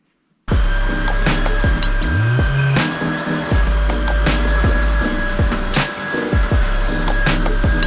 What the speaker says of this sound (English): I'm just going to start with a vacuum.